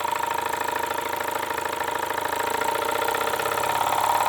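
A Jensen #10 deluxe live steam engine drives a generator, giving a steady, even mechanical chugging and whirring that runs continuously and slightly builds in loudness, with no voices.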